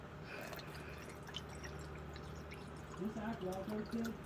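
Water poured into an MRE drink mix during an outdoor evening barbecue, a faint, steady trickle and dribble of liquid into a pouch, quiet and close, with light background noise.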